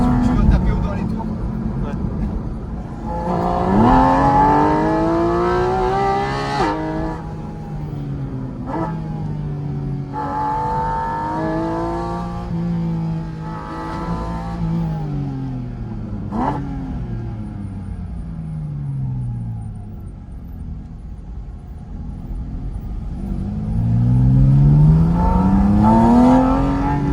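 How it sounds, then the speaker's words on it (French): A sports car engine revs high several times, each rise sweeping up in pitch before dropping back; it sounds loud and close, with a steady rumble between revs. "Tu vas taper haut dans les tours."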